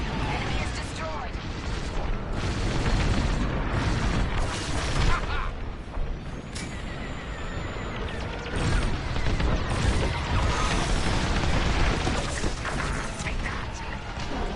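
An enemy starfighter explodes during space combat in Star Wars: Squadrons, with heavy booming blasts over a constant roar of engines and weapons fire. The explosions are loud and rumbling, and voices talk over the din.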